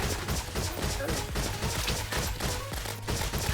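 Rapid gunfire in the video game Terraria, a dense, continuous stream of repeated shots heard close and loud, with a voice talking over it.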